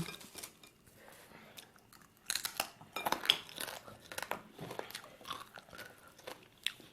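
Crisp, crunchy fried dried squid is bitten and chewed close up in irregular bursts of crackling crunches and soft mouth sounds, with a faint clink of dishes.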